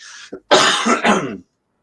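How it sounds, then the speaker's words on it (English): A single harsh cough bursts out close by, preceded by a short throat-clearing rasp, then silence. "so a bit of a smoker's cough, even though I don't smoke"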